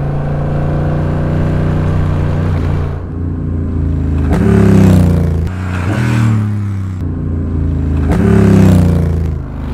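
A Honda Rebel 1100 fitted with a Coffman's shorty exhaust drones loudly as it nears, then its engine note drops and warbles through several downshifting swells as it decelerates past close by.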